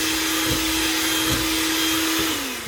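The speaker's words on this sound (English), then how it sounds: "this electric mixer, it's got high, higher" Electric hand mixer beating chocolate frosting made with icing sugar, giving a loud, steady motor whine that holds one pitch for a few seconds before easing slightly at the end.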